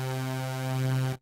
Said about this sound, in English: When this is enabled, the chorus effect has two built-in LFOs and two delay lines